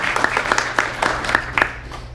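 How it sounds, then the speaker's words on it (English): Applause from a small audience at a real estate mastermind meeting, sparse and close by. Individual claps stand out in an uneven rhythm for about two seconds over a low room hum. "Let's give him a round of applause."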